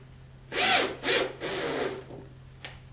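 A power drill driving screws into the base of a TV unit during assembly, two short whirring bursts followed by a longer steady run, close and clear, then a small click.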